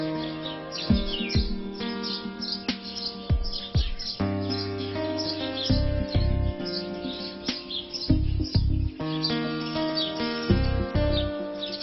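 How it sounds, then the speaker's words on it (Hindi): Many house sparrows chirp together in a busy, continuous chorus of overlapping bright calls, close and fairly loud, with no talking; deeper tonal sounds run underneath in places. "गौरैया की ये चहचहाहट"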